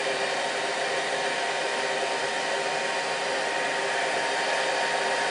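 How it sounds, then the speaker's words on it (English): A heat gun blows steadily to shrink heat-shrink tubing onto a 17 ft cable, a continuous loud, even airy roar with no pauses and no voices. "Just put a piece of heat shrink on, melt it till it gets snug around the main body"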